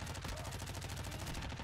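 Rapid, unbroken automatic fire from an MP5 submachine gun in the shooter game Modern Warfare 2, shots packed tightly into a dense rattling stream that stays steady and forceful with no pauses or voices.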